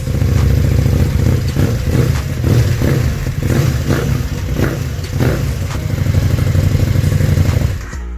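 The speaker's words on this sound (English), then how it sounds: "let me take out the silencer to see how it sounds. Let me rev a little bit." KTM 1290 Super Duke with an SC-Project SC1-R carbon exhaust, silencer removed, revving loud and close, a deep rumbling idle broken by repeated sharp throttle blips before cutting off near the end.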